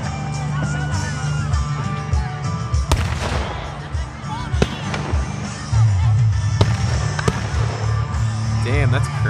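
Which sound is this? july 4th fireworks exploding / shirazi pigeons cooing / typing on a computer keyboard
july 4th fireworks exploding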